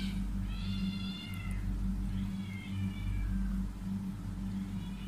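A cat meows indoors, two drawn-out cries a moment apart, clear but modest in level over a steady low electrical hum.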